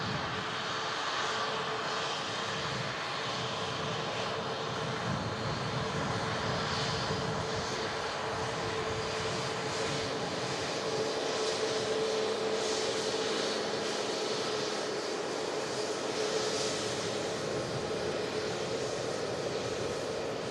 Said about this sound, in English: Here she is after a nice smooth landing here at Manchester.